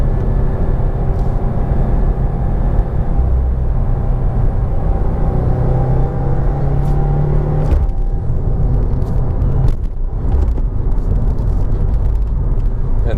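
A big sedan of almost 3,500 pounds drives over bumpy roads, heard from inside as a steady loud road and engine rumble, with a few brief thumps and knocks toward the end.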